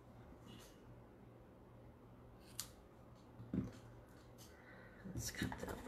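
Scissors snip paper for a 3D shadow box, a few sparse, sharp clicks and cuts spaced apart, close and fairly quiet against a low background hum.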